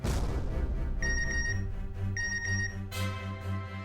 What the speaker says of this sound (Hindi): आ गया मिंटी का मैसेज